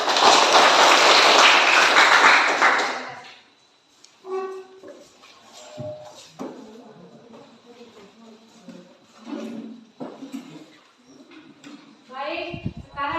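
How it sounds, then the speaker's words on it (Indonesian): Applause from a classroom group of students for their presenting group, a dense, loud burst of clapping lasting about three seconds before it stops abruptly and a voice begins talking. "berikan tepuk tangan dari kelompok"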